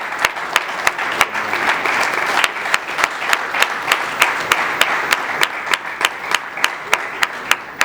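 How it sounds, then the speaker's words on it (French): Audience applause at a ceremony in honour of a guest from the Democratic Republic of the Congo, steady clapping from a crowd filling the room with sharp individual claps standing out throughout. "que je vous prie d'applaudir"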